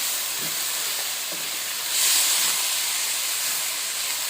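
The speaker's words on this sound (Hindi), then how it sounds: "तो फिर 2 से 3 मिनट के लिए ना इसको भूनना है हमने।" Cracked wheat dalia roasts in a hot pan, giving a soft, steady hiss and sizzle close by, with a few faint stirring scrapes and a brief swell of steamy hissing midway.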